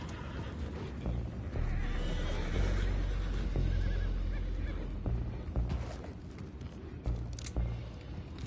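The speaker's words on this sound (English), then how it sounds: "go find out about those horses down below" Horses in Red Dead Redemption 2 neigh and whinny repeatedly amid a dense, busy game soundscape with rumbling background noise and scattered thuds.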